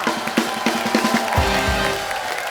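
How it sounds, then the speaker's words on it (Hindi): A studio audience at a Hindi comedy talk show claps and cheers for Bravo and Raveena, a dense, steady wash of applause with a few sharper claps early and a low rumble partway through. "एक बार ब्रावो और रवीना के लिए जोरदार तालियां"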